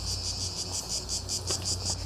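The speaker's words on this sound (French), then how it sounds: "Ce sont des cigales." Cicadas droning loudly at night outside a house, a dense, continuous, pulsing buzz that stays steady and deafening throughout, close and with no talking.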